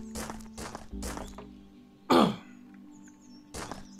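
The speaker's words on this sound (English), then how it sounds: "I'm sorry about the, like, throat clearing and sniffling" A person clears their throat once, a loud, rough burst close to the microphone, between stretches of other quiet sounds in a room.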